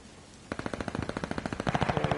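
Rapid automatic gunfire from a video game, a fast burst of evenly spaced shots that starts abruptly and carries on for about two seconds, loud and close with no talk over it.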